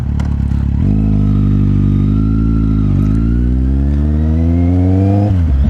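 A Kawasaki Z800e motorcycle pulls away and accelerates, the loud close engine note rising steadily, then briefly dropping at each gear shift before climbing again.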